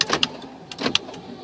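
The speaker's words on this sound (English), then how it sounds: "Central locking." Central locking on a 2016 Suzuki Grand Vitara 2.4, two quick pairs of clicky actuator clunks from inside the cabin, crisp and close.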